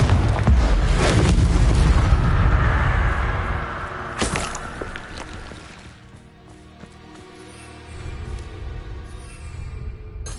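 Confringo blasting curse explosion in the Wizrd video game, a deep, booming blast that swells over the first few seconds, fades, then returns with a sharp crack and a lower rumble.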